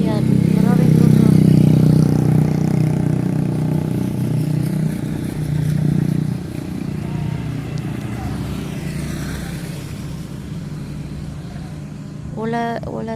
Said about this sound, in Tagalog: Ayan, maraming motor.